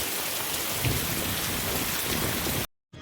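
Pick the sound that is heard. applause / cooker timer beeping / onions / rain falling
rain falling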